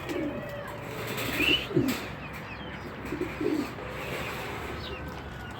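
Pigeons coo in soft, repeated throaty phrases, fairly close, with a few faint chirps in the background.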